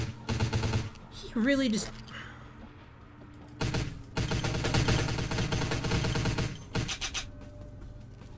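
Bursts of submachine gunfire from the Hunter Slayer SMG in Vampire: The Masquerade – Bloodlines, fired in several sustained rapid volleys with short pauses between them, loud and close, with a brief spoken remark early on.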